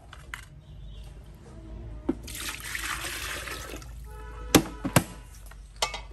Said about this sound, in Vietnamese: Đấy nhá, nước rót bình thường nhé.